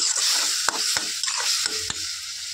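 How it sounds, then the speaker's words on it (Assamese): Assamese khar curry with fish heads bubbling in a pot makes a steady close hiss and simmer, broken by a few soft knocks and bursts, with no talking. "এতিয়া ধুনীয়াকৈ উতলি আছে আৰু এয়া মাছৰ মাথাখিনি মই ইয়াতে দি দিলোঁ"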